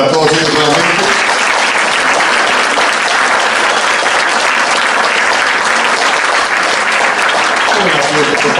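Loud, dense applause from a large audience at a Teacher's Day event, steady throughout with no break, the clapping merging into a continuous roar.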